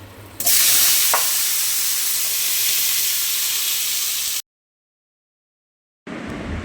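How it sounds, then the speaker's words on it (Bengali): Potatoes drop into hot oil seasoned with black cumin and sizzle loudly and steadily at close range. The frying cuts out briefly, then resumes just as strongly, with no talking. "এবার আলুটা একটু কিছুক্ষণের জন্য ভাজা হতে সময় দেব"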